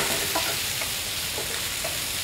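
Shiitake and button mushrooms, lightly salted, sizzle steadily in a hot pan while being stir-fried, with a few soft scrapes of the utensil against the pan standing out over the constant frying hiss.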